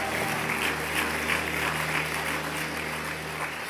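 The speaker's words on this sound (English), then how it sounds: "give the Lord a round of applause" A large church congregation applauding steadily, a dense wash of clapping that holds throughout with some music or voices underneath.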